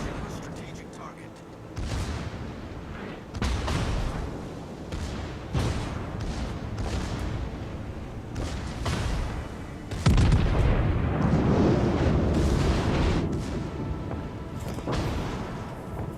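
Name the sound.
battleship caliber guns firing in World of Warships (video game)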